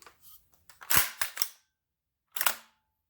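Bolt of an AR-15 piston-action rifle cycling and failing to lock back on the magazine: a cluster of sharp metallic clacks followed by one more clack a moment later, close and alone.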